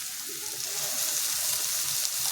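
Fish fat frying in a pan with spice paste makes a quiet, continuous sizzling hiss nearby, steady and unbroken with no talking over it.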